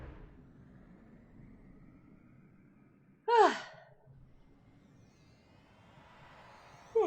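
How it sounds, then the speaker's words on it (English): A person gives a single drawn-out yawn that rises and falls in pitch, close and clear over a quiet background, with the start of another yawn right at the end. "Sorry I'm yawning so much."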